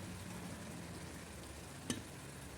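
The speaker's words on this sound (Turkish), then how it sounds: "Şimdi üzerine tereyağı da dökelim." Butter sizzling in a pan with meat and tomatoes being cooked together, a soft, steady hiss of frying heard alone and at low volume, with one brief clink partway through.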